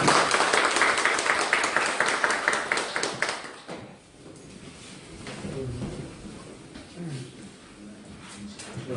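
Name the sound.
audience applause welcoming a speaker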